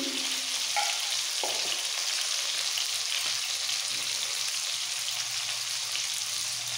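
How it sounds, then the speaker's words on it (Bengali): Potatoes frying in hot oil as they are stirred, making a steady, dense sizzle that runs the whole time with a few soft scrapes near the start, close and fairly loud with no talk. "তেলের মধ্যে আলুটাকে একটু নাড়াচাড়া দিয়ে দেবো"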